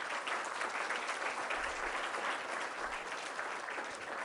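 Sustained applause from an audience at a televised talk on human trafficking, steady dense clapping filling the whole stretch without talk over it.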